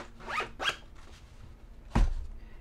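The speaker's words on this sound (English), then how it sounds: "That all zips up nicely." Zipper on a travel bag carrying a remote-work setup being pulled closed in a few quick close rasps, followed by a louder final tug and a short rustle.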